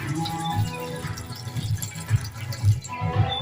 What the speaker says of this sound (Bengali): কিছুটা জল দিয়ে দেব।